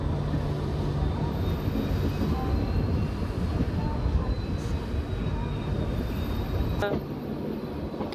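A passenger train, a Vistadome tourist special, pulls out of NJP station in the morning with a steady low rumble of wheels and engine, and a sharp squeal rises near the end.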